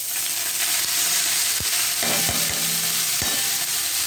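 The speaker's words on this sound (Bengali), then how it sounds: "এবার আমি এই কেটে ধুয়ে রাখা শাকটা দিয়ে দেবো কড়ার মধ্যে" Chopped, washed bet shak greens hit hot oil in a kadai and sizzle loudly and continuously, with a few sharp clacks of a utensil against the pan partway through.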